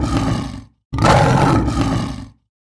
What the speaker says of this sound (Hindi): शेर की दहाड़